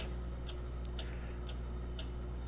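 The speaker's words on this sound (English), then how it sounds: "What is that mysterious ticking noise?" A steady mechanical ticking from the Potter Puppet Pals mysterious ticking noise, evenly spaced about twice per second over a constant low hum, with no voices.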